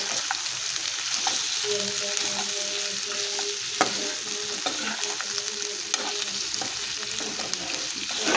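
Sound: chicken curry frying and being stirred in a pan

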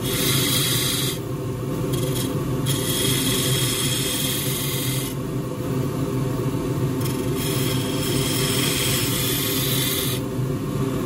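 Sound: cutting grasstree on a wood lathe

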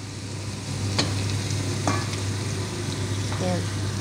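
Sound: stirring spinach chicken stew in pan

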